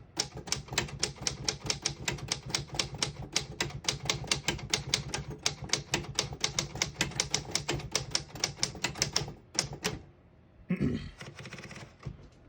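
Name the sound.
typing on a 1940 Smith-Corona Standard manual typewriter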